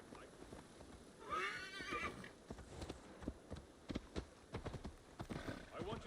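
A horse whinnies in Assassin's Creed Valhalla, the neigh rising clearly over rhythmic clip-clopping hooves, while voices talk underneath and later continue over the hoofbeats.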